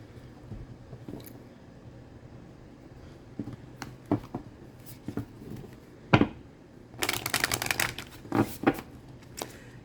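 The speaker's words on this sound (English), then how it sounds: "I always shuffle them on camera so you all can see" Tarot cards being shuffled in irregular bursts of riffling and slapping, close and fairly quiet, growing busier toward the end.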